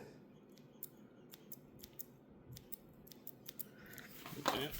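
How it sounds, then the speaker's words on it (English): A series of small, crisp embroidery scissor snips cutting into ball python eggs, quiet and irregular, clicking one after another in a still room. "Those new embroidery scissors just don't want to do the job."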